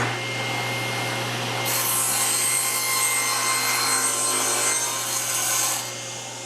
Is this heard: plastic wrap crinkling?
no